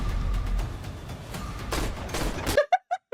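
Rapid bursts of machine gun fire in a film, dense clattering shots with loud booms, ending in a few sharp, evenly spaced tonal blips.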